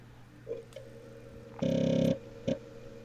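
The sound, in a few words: floppy drive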